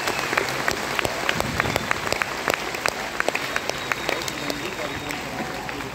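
An audience at a DXN business seminar claps together in a hall, producing a dense, loud run of crisp hand claps with rhythmic peaks that carry through the whole stretch.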